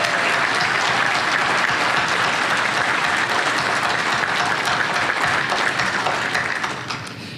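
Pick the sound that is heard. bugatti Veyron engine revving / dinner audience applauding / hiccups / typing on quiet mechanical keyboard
dinner audience applauding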